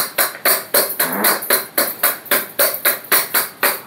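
Bhakri flatbread dough patted by hand, a loud, close, regular slapping rhythm of about three pats per second, continuing alone without talk.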